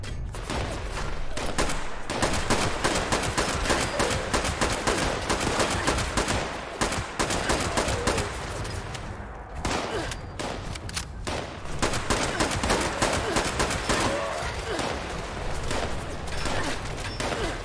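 Rooftop turrets on a building in the game Fallout 76 fire sustained automatic bursts, dense rattling gunfire that continues loudly almost without pause, with only brief gaps between volleys.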